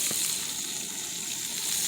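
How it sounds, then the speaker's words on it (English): Close, steady crackling sizzle of chicken thighs frying face down in a hot pan, continuous with no voices. "in the pan, face down. And you want to hear that sizzle."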